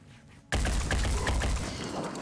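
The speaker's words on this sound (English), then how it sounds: "Shooting." Soldiers open fire in the Phoenix Point tactics game: a sudden loud burst of gunfire after a short quiet moment, then a sustained volley of sharp overlapping shots.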